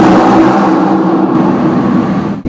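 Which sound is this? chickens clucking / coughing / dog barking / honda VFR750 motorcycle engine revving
honda VFR750 motorcycle engine revving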